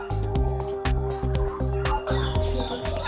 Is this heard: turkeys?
yes